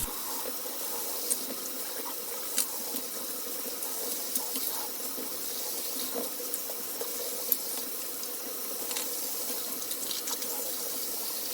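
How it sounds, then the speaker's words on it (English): Tap water running over just-washed parts of a restored troop transporter toy, a continuous splashing flow with small clinks and knocks scattered throughout. "now we're going to just rinse everything off and dry it"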